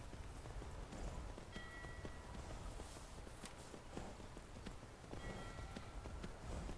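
Horse hooves clip-clop steadily on the ground in Skyrim, a continuous run of close, even hoofbeats over a dense outdoor wash of game ambience.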